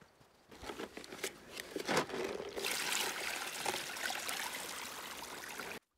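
Water trickles and splashes steadily, faint and close, while river-stone stairs are being built with concrete; the flow starts after a few soft knocks and runs continuously to the end.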